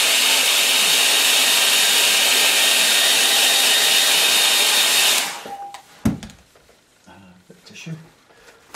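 A hair dryer drying paint roars loud and close for about five seconds, then cuts off. Quieter knocks and small handling sounds follow.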